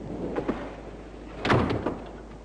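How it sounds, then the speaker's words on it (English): A door swings shut indoors, with a couple of soft knocks followed by a firmer closing thump, close by and clear with no talking. "Close the door."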